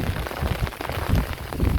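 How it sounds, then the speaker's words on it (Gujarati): Heavy rain falling on farm fields, a dense, steady roar of drops drumming on surfaces, loud and continuous. "આમાં આજે વરસાદ વધી ગયો બહુ"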